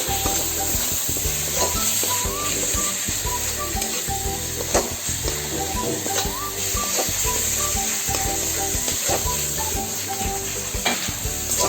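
Minced mutton frying with spices in mustard oil, a steady loud sizzle with continuous stirring and clattering of a spatula against the pan throughout, no talking.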